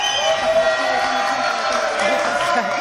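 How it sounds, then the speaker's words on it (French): A French television studio audience cheers and applauds for Florian, a steady, dense crowd roar with whoops held at an even level throughout. "applaudissements s'il vous plaît pour Florian"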